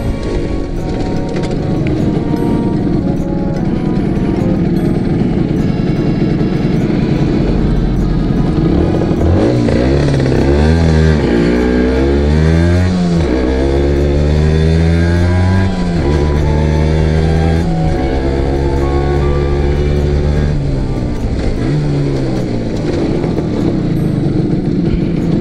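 A Honda NS-1 two-stroke moped accelerates hard, its engine pitch climbing and dropping again and again as it shifts up through the gears, loud and close throughout.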